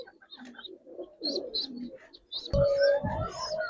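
Giribaz pigeons coo in a loft, soft repeated throaty coos and a few chirps nearby, growing louder and fuller toward the end, with faint voices in the background.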